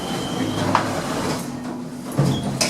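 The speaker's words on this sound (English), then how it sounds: "Atenció, tancant portes." Doors of a Barcelona Metro train closing at a platform, a soft sliding thud and clunk over steady station hum and a low rumble, with an announcement voice nearby.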